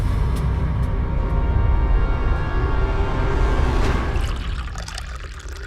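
Filtered drinking water pours in a loud, close, continuous stream that tapers off near the end.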